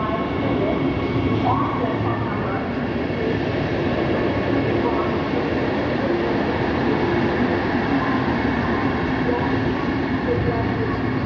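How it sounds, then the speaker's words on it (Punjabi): A train standing at a busy railway station on the Amritsar to Delhi route, its steady low rumble and hum continuing through the whole stretch alongside the crowd's murmur and faint announcement-like sounds. "ਸ਼ਾਨਦਾਰ ਟ੍ਰੇਨ ਹੈ ਭਾਈ 3-4 ਦਿਨ ਹੋ ਗਏ ਇਹਨੂੰ ਚੱਲੀ ਨੂੰ"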